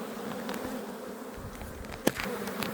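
Honey bees hum in a dense, steady drone from a strong, crowded hive colony, close and continuous, with one sharp knock partway through.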